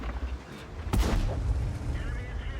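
A tank cannon fires once in World of Tanks, an Object 140 battle, a heavy boom with a rolling tail standing out from a busy game soundscape and engine rumble, while a commentator talks over it.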